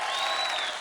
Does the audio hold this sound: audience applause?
yes